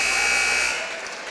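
A basketball game buzzer at a boys' high school sectional sounds one loud, steady electronic tone for about half a second over crowd noise in a gym, then cuts off while the crowd murmur continues.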